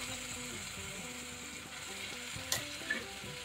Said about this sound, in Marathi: हे आपल्याला छान असं परतून घ्यायचंय